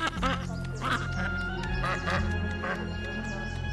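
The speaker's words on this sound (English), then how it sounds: "Calm down. It's just a duck." A duck quacks repeatedly in a tense scene with armed officers, a string of loud, nasal quacks close by over a low steady hum.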